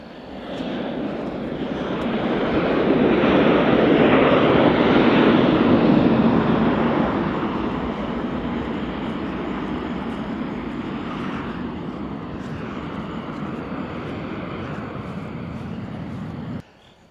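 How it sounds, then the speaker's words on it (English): A steady, loud airplane engine roar as a small plane flies in over an airport, swelling over the first few seconds, holding, then easing slightly and continuing broadly before cutting off abruptly. "missed the plane coming in"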